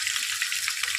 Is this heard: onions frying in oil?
yes